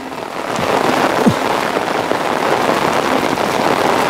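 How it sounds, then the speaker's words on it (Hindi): Heavy rain pours steadily and loudly in a Punjab village, a dense, continuous hiss of drops striking surfaces nearby, with no talk. "क्योंकि बारिश बहुत तेज़ है"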